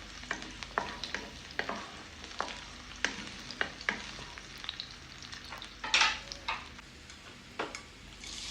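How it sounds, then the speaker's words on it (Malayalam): Chopped garlic sautés in hot oil for a Kerala-style cauliflower stir fry, a steady close sizzle broken by frequent sharp clicks and scrapes of a spoon stirring against the pan. "എണ്ണ ചൂടായിട്ട് വരുമ്പോൾ നമ്മൾ ഒരു 5-10 വെളുത്തുള്ളി ഇടും, മുറിച്ച് വെച്ചത്. എന്നിട്ടത് ബ്രൗൺ ആവുന്ന വരെ സോട്ട് ചെയ്യുക"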